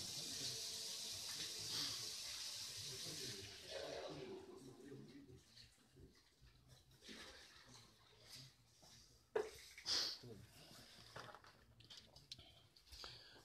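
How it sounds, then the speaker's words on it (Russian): Water sprayed from hoses at a detention facility, a rushing spray heard at a distance that fades and returns in bursts, with people talking nearby. "Опять водой поливают."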